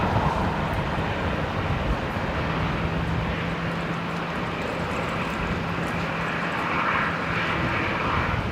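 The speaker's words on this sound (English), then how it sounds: "The Qantas Link Embraer there" A QantasLink Embraer airliner's engines roar steadily at Brisbane Airport, a broad continuous rumble with a faint whine that holds through the whole stretch without voices.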